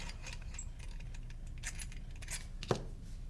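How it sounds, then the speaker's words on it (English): Metal Allen keys hit the ground in a single bright clink near the end, faint and close over a low background hum, with soft handling clicks before it. "drop your Allen keys on the ground"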